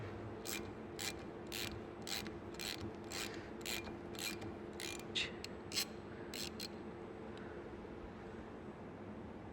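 Time-Sert thread insert being tightened with its insert tool in a diesel engine's glow plug hole, giving a series of quiet, regular ratcheting clicks that fade out, with faint background hum.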